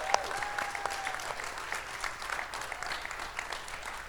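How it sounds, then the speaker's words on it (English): Applause from the audience at a stem cell and regenerative medicine physicians' conference, a steady patter of many hands in a large hall, moderately distant and even, with a few brief tones sounding over it. "he deserves a second round of applause"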